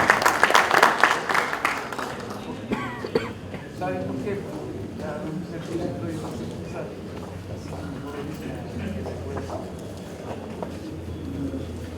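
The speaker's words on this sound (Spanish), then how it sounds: "Vamos a recibir con fuertes palmas" Audience applause at a water-issues forum, with dense clapping strongest over the first two seconds, then fading into murmuring and voices that continue beneath a steady low hum.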